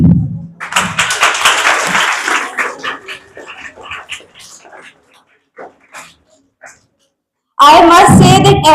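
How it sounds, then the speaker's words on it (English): An audience at a competition event claps for the winning team, a burst of applause that swells quickly and then thins to scattered claps. A voice follows at the end. "A big round of applause for the winning team"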